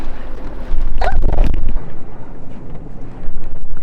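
A sailboat heads out of Luperon harbor in the Dominican Republic, heavy wind buffeting the microphone with rushing water and a brief low rumble, loud and close.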